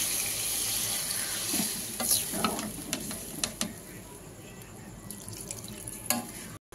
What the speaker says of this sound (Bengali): এবার আমি দিয়ে দিচ্ছি পরিমাণ মতন জল।